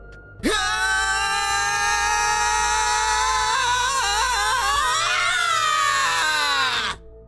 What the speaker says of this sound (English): He ducks down and starts screaming.